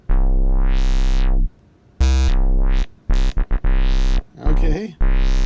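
A deep house synth bass patch plays auto-generated chords, loud sustained tones that cut off and restart in uneven bursts, with a few short stabs and a gritty swell near the end.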